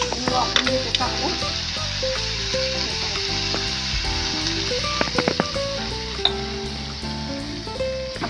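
Vegetable curry of black peas simmering in a pan after water is added, with a loud, continuous sizzle and repeated clinks and scrapes of a spoon stirring close by.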